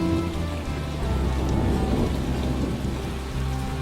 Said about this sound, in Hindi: तड़कती बिजली और तेज बारिश